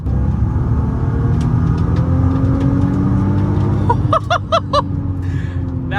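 Nissan R32 engine pulling hard to high RPM, a loud continuous roaring drone with rising harmonics throughout, with a few brief sharp tonal chirps near the end.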